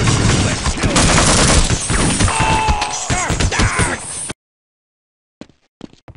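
Rapid automatic gunfire from Half-Life: Opposing Force, a dense, loud burst of overlapping shots and impacts lasting about four seconds, then cutting off abruptly to near silence with a few faint clicks.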